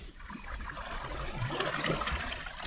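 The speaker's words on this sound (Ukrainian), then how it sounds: "Вставляємо весло попереду себе" Kayak paddle dipping and drawing through water during a steering stroke, a soft continuous swish and trickle, close and fairly quiet, with no talking.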